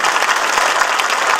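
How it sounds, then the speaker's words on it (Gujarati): Loud, dense audience applause from a crowd, a continuous roar of many hands clapping at once with no pauses. "જોરદાર તાળીઓના ગડગડાટથી વધાવી દો."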